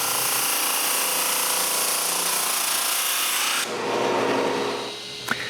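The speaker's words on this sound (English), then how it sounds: "The next morning, I sand all the panels smooth and to the right thickness." A sander works across glued-up wooden panels for a bathroom vanity, giving a loud, steady abrasive roar that continues without pause, then shifts to a slightly different tone near the end.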